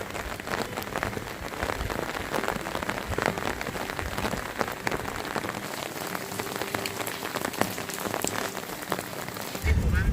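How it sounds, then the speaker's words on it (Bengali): Heavy rain pours steadily at a Kausani homestay in the Kumaon hills, a dense, continuous hiss of drops drumming on surfaces, loud and close throughout with no voices. "বৃষ্টির প্রকোপ বেড়েই চলেছে"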